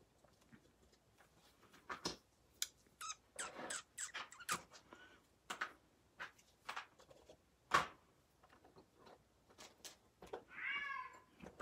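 A small cat moves around indoors, with scattered soft thumps and rustles, then meows once near the end, faint and close by, with no talk.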